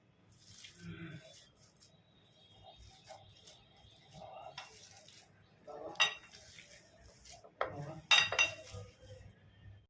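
Homemade drained chhana is kneaded and mixed by hand in a bowl for rasabali, with scattered clinks and knocks of a utensil against the bowl and soft squishing, while birds chirp faintly in the background.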